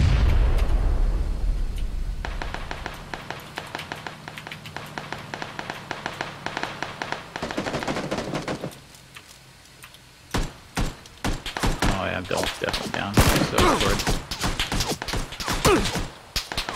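Gunfire in a battle-royale shooter game, with sharp rapid shots and bursts, sometimes near and loud, sometimes spaced, after a stretch of engine and movement noise.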